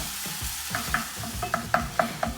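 A pan of butter and flour sauce sizzles steadily while a utensil stirs and scrapes, with several sharper clinks and taps recurring over the frying hiss.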